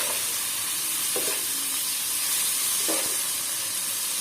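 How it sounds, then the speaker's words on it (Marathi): Wet cashew kernels are stirred into frying onions in a pan, giving a continuous bright sizzle and hiss with two soft scraping strokes of the spoon, and no voices. "आता आपण या कांद्यामध्ये हे साफ करून ठेवलेले काजू घालून घेऊया. आणि सगळं मस्त असं मिक्स करून घेऊया"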